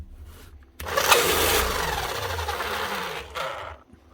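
An old Makita HM1100C demolition hammer from around 2006 with a failed fan, starting up with a sudden burst of rough motor whir and rattle that runs for a few seconds, then dies down.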